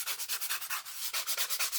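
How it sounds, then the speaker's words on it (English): Steady hand sanding with a sheet of abrasive, a bright rhythmic scratching of strokes back and forth at roughly four per second, close and continuous with no talking. "And we go back to sanding."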